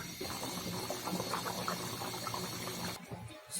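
A potato and egg curry simmers in its gravy in a pot, with steady close bubbling and small liquid pops that end in a brief clatter.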